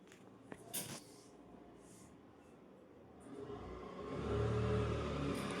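A sewing machine stitches along the edges of a blouse front: after a few faint knocks, the motor kicks in partway through and runs as a close, steady humming whir.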